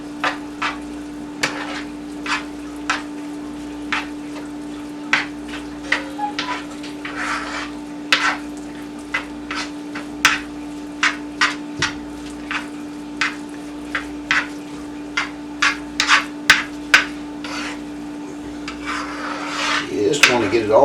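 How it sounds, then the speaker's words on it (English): A utensil scrapes repeatedly through Spanish rice with tomato paste in a pan, giving irregular scratchy strokes over a steady hum and soft sizzle, close and alone without talk. "Just want to get it all stirred together here."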